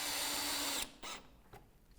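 A power drill drives a screw into a Velux centre-pivot roof window frame: one loud, steady whir lasting under a second that stops abruptly, followed by a few short quieter bursts.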